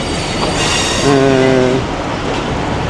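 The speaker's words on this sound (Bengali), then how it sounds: "এই যে একটা ট্রেন" A train rumbles steadily with a brief high squeal of wheels partway through, loud and close, in a noisy station at Rajshahi railway station.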